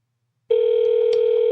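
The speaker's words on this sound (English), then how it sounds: "I forgot I have that button set to phone for a phone call" A phone call tone starts abruptly after a button press, a steady, loud electronic tone holding without a break to the end, with no voices.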